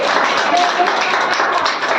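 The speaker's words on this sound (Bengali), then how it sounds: "আমরা যিশুর জন্য একটা জোরে হাততালি দিতে পারি" A church congregation at a Sunday service claps loudly for Jesus, a steady wash of many hands applauding together.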